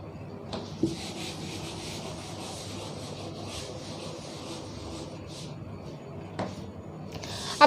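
A duster rubbing a classroom board clean, a steady soft scraping swish that runs continuously, close and fairly quiet, with a couple of light knocks.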